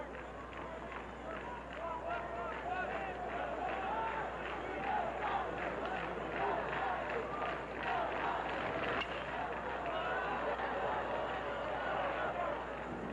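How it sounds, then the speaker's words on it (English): A large baseball crowd at Rosenblatt Stadium during the 1987 College World Series game between Arkansas and Georgia, a steady roar of murmuring and cheering fans heard from a distance with no break. "Good crowd on hand tonight."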